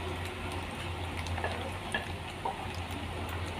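Chopped scrambled egg stirred into macaroni frying in a pan, a soft steady sizzle with faint scraping taps of a spoon scattered through, close and quiet, with no talking.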